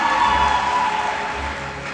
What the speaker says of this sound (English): Give a round of applause to yourselves